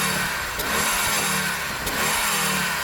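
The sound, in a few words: old Audi Quattro 20 valve engine revving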